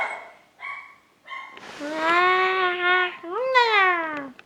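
A nearby dog gives a few short sharp calls, then long drawn-out whining, howling cries that rise and fall, loud and close.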